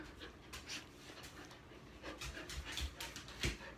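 A puppy pants in quick soft bursts with a few faint whimpers, close by against low room noise.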